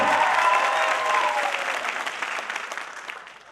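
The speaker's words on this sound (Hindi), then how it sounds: "तालियों के साथ सर का स्वागत करें" Audience at a company celebration event in India applauds to welcome a speaker, a thick burst of clapping that starts loud and gradually tapers off.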